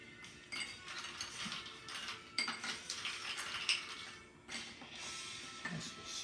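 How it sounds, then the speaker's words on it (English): Ice cubes are dropped into a cocktail glass for a cherry chocolate rum old fashioned, giving faint, close clinks and rattles in several short bursts. "All right, we're going to put the ice in."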